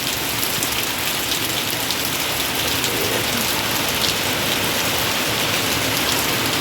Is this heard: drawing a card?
no